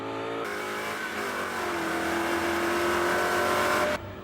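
A car on a test track laps at full throttle, the engine winding up in a sustained rising rev as it accelerates out of a corner, loud and close, with a sharp drop at the end.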